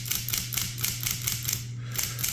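Keys striking on a Smith-Corona 5TE electric typewriter, a fast, even train of crisp mechanical clacks over a constant low motor hum, close and clear.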